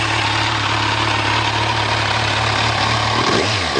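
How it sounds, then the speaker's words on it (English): A 2014 Kawasaki Z1000 ABS motorcycle exhaust idles steadily with a deep, even throb, close and loud, with no voices. "See if we can get a little sound of that exhaust."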